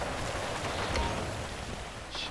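Steady rain hisses down on a surface, a dense even patter that continues throughout with no break and no talking.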